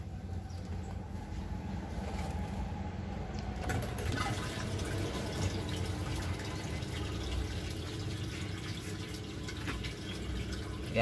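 Water pumped into a hydroponic reservoir tank, a steady broadband rush and splash that runs continuously without pause.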